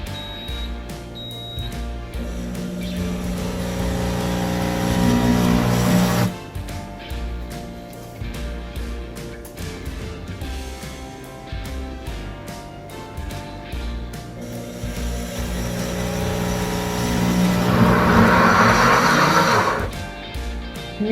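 A PC Cooking Blender runs on its jam setting, blending apples into cinnamon applesauce: a loud, steady motor whir with chopping clatter lasts throughout, briefly dips in intensity, then swells again.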